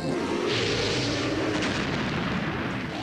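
A dragon's fiery breath from the fantasy film Dragonheart: A New Beginning, heard as a continuous loud, rushing roar for about three seconds, dense and booming with no voices.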